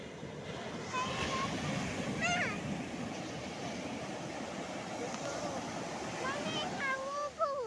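Sea waves wash onto the shore in a steady, moderately loud surf wash, while a voice talks intermittently over it.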